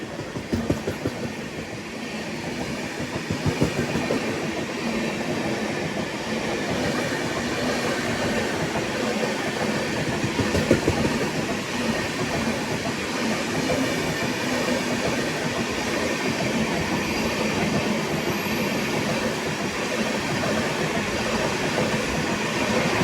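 Nellore to Vijayawada MEMU Express (17259) running on rails near Chunduru, a steady close rumble and rattle of wheels and carriages rolling on continuously throughout with no voices.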